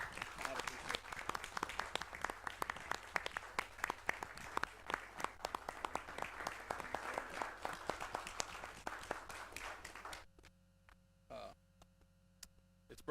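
At a city council meeting, a modest crowd gives scattered applause to honored council members. The sharp, uneven claps ring out over a constant electrical hum, then stop abruptly, leaving only the hum and a few faint noises.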